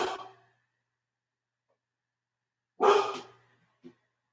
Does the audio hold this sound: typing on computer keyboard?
no